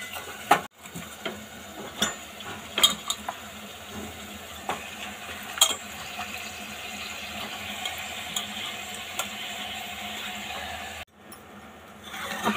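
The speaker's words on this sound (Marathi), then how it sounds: "आता आपण यामध्ये धुतलेलं चिकन टाकून घेऊया।" Washed chicken goes into a pan of spiced paste and is stirred, giving a continuous low sizzle with scattered spoon clicks and scrapes over about twelve seconds, close up, with no talking.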